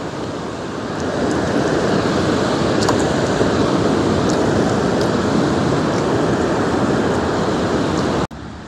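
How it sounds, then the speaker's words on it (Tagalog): Strong waves on a beach during winter camping at night, a loud continuous roar of surf mixed with wind buffeting the microphone, steady throughout before a sudden cut near the end. "Lakas ng alon."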